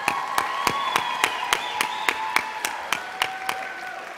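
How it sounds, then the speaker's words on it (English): A school audience at a middle school winter holiday concert applauds the full ensemble, with steady dense clapping punctuated by sharp, regular louder claps, fairly close and continuous throughout. "One more loud round of applause for the whole full ensemble."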